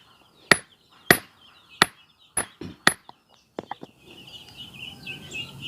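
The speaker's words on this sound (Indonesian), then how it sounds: "Kita pukul ya sedikit ya, apakah bisa masuk atau tidak." A hammer strikes a gear being driven onto a shaft of a mortar mixer, with about six sharp, ringing metallic blows at a steady pace followed by a few lighter taps, close up against faint background birdsong.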